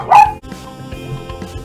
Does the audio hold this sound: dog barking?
yes